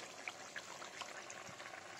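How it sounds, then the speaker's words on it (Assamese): Paneer boiling in water in a pot makes a faint, steady bubbling hiss with scattered soft pops, heard alone without talk. "এয়া পনীৰখিনি আমাৰ উতলি আছে অকণমান উতলিলে নমাই থৈ দিম"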